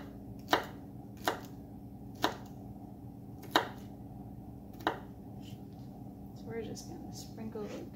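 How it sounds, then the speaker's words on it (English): A knife chops garlic into little pieces on a board at a campsite, five or six sharp, separate taps spaced about a second apart, close and fairly quiet, followed by soft handling noises. "for camping, we just chop the garlic into little pieces"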